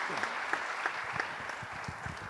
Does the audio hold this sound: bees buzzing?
no